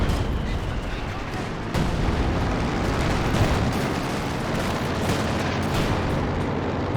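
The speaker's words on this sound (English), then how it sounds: "Some major artillery coming in out the back there as well." Incoming artillery in a Company of Heroes 2 battle, a continuous loud roar of shelling and gunfire with dense overlapping booms and crackles, close and unbroken across the whole stretch.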